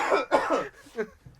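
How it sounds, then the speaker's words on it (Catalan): A person coughs in several harsh, close bursts on a radio broadcast, ending with a short throat-clearing. "vaya tos"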